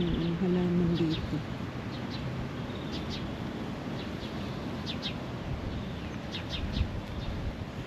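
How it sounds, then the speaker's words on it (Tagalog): Small birds chirp in brief, high, faint calls scattered over a steady outdoor background hiss in New Zealand, with a voice briefly heard at the start. "Nakaka-relax yung hiuni ng ibon guys."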